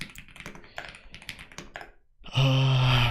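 Typing on a computer keyboard during a coding session, a quick irregular run of close key taps lasting about two seconds before a louder tonal sound takes over.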